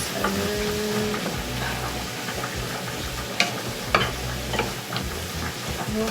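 Vegetables including carrots fry in a pan for lasagna while being stirred, a steady close sizzle under scraping strokes and a few sharp utensil knocks against the pan.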